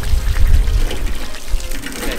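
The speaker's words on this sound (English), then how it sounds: "Phil, don't drink the hose water" Water running from a garden hose, a continuous splashing gush with low rumble, loud and close, while people talk around it.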